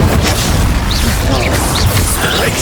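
Incendio fire spell blasts in Hogwarts Legacy combat, a loud burst of booming, crackling whooshes layered over steady battle noise, with a voice briefly calling out.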